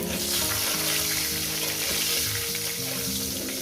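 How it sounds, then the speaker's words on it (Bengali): Eggplant and potatoes frying in a pan, a steady, loud, close sizzle that holds throughout. A faint tonal hum runs underneath and no one speaks. "বেগুনটাকে দিয়ে আরো আমি চার পাঁচ মিনিট ভেজে নেবো"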